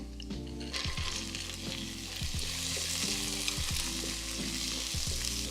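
Frozen vegetables hit a hot pan for shrimp fried rice, a loud, continuous sizzle and hiss with occasional scraping stirs, close up and with no talking.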